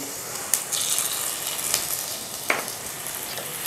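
Garlic and cumin seeds sizzle and crackle steadily in hot oil in a pan for a tadka, with a few sharp clinks of a utensil against metal.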